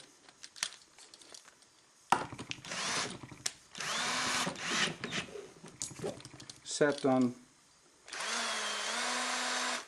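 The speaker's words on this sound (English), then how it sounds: "I'm using a cordless drill." A cordless drill whirs in several short bursts and one longer run, close by, with someone speaking briefly between the bursts.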